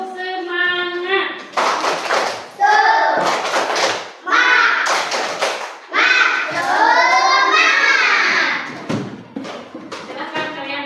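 A classroom of kids repeats a rhythmic group clapping chant, sharp claps interleaved with loud chanted voices in several close bursts, ending in a last clap and fading.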